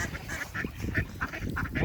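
Several ducks quacking close by in quick, overlapping bursts during harsh winter frost, a busy flock chattering without pause.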